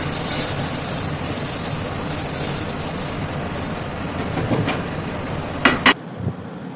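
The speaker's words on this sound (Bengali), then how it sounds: "ফোড়নটা পুরোটা ডালে ঢেলে দেবো।" A hot spice tempering is poured into dal for Odia dalma and sets off a loud, steady hissing sizzle close by. It ends in a couple of sharp metal clanks from the pan, then falls quiet.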